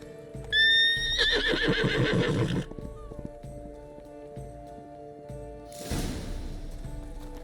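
Geralt's horse Roach in The Witcher 3 gives a loud, close whinny, followed by quiet hoof clip-clops and a later burst of movement noise.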